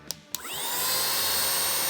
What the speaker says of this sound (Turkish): Bildiğiniz mini bir süpürge. Clean My Bricks firmasının Lego süpürgesi